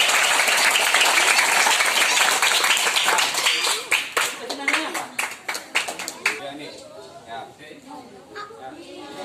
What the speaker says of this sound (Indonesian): Tepuk tangan dulu buat Kartika